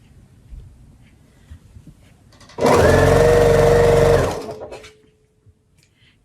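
A domestic sewing machine stitching a quilt runs in one steady, loud burst of about a second and a half, a fast even mechanical whir that then stops, with quiet room sound before and after.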